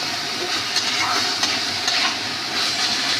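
Vegetable filling for momos cooks and dries out in a pan, a steady close sizzle with scraping stirs of a spoon against the metal, continuous and fairly loud with no talking.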